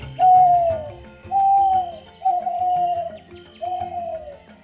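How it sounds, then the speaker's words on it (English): Four soft, hollow owl-like hoots in a slow, even sequence, each a drawn-out falling note heard close and alone with a faint background. "Owls call out his name and can be heard."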